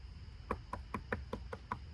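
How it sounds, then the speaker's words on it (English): Seven sharp knocks on a solid lumber front door frame at a house under construction, struck in a quick, even rhythm, close and clear over a low background rumble. "I'm knocking on potentially our front door frame."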